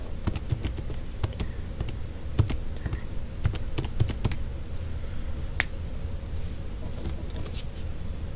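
Quick, irregular plastic clicks of calculator keys being pressed as numbers are entered, close and moderately loud, with brief pauses between bursts over a steady room hiss.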